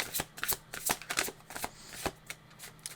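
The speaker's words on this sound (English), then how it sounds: "we're going to give it a few shuffles to see if any cards like that fall out" A deck of tarot cards being shuffled, with crisp riffling bursts and quick flutters in an irregular rhythm, close and fairly quiet with no talk.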